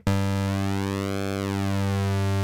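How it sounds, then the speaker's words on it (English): A sustained buzzy square-wave synthesizer tone with pulse width modulation holds one pitch while its timbre sweeps slowly up and back down, a single steady note. "On the square wave you control the pulse width modulation with the morph."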